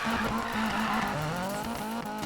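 A Volvo Amazon drift build in Need for Speed Payback slides with a loud, steady tire squeal over a high revving engine, its pitch dipping briefly mid-slide, close and continuous with no talk.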